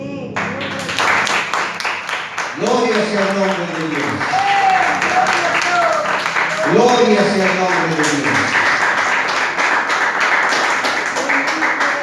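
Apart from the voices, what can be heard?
congregation applause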